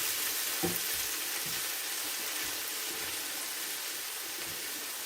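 Food sizzling steadily in a pot for a chicken pasta soup, with a constant close frying hiss and occasional soft knocks and scrapes from stirring.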